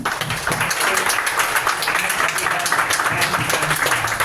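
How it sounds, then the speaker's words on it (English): Applause from a demo-night audience for a presenter, loud, continuous clapping with murmuring voices mixed in throughout. "Let's give Keith a round of applause"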